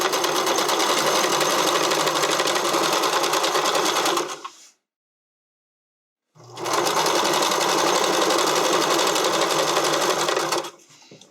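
A sewing machine runs at steady high speed stitching narrow elastic onto stretched fabric for a waistline, in two long continuous bursts separated by a short pause, close and loud with no talking.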